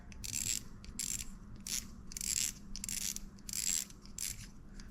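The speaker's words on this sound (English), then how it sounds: "we're gonna start out by taking off this spool, loosening up the drag" Shimano Vanford C3000XG spinning reel being worked by hand as the spool comes off and the drag is loosened, giving close, bursty ratcheting clicks and mechanical rattles in uneven spurts with no talking.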